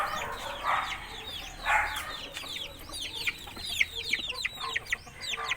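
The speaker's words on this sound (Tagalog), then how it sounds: "Tapos maraming sisiw." Backyard hens and many chicks clucking and cheeping close by, busy overlapping peeps and clucks with a few louder squawks, no voices.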